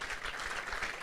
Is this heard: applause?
yes